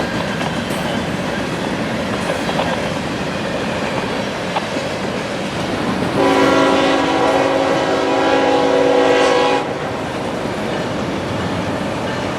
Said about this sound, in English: A long, heavy train with only one engine up front and one DPU in the middle.